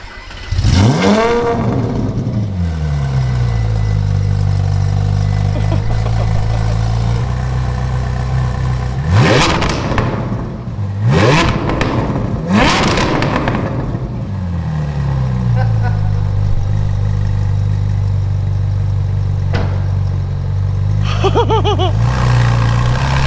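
A Ferrari 458 Speciale engine idles nearby, then revs hard several times, roaring up and dropping back to a low, steady rumble.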